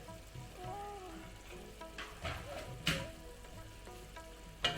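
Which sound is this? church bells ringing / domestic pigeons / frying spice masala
frying spice masala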